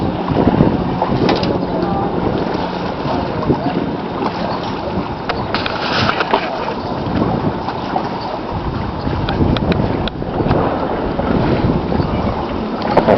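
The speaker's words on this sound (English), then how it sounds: "The wind just about makes it where you can't tell if you're getting a bite or if it's just the wind." Strong wind buffets the microphone nonstop while trout fishing at Lake Taneycomo near Rockaway Beach, a loud, rough rumbling roar with gusty swells and faint lapping water beneath, no speech.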